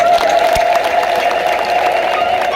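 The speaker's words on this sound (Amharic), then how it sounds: "እልልታ ይገባዋል።" A church congregation ululates in praise, many voices joining in one sustained, shrill trill over a busy crowd murmur.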